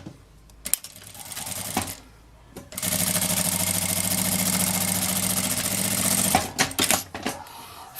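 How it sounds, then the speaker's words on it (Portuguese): Sewing machine with a presser foot stitching two patchwork fabric squares together for a scrap cushion, a steady fast mechanical whirr running about four seconds after brief handling clicks, then stopping with a few knocks. "vou fazer uma costurinha com um pé de máquina"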